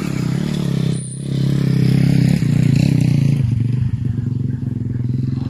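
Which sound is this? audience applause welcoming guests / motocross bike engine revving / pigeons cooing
motocross bike engine revving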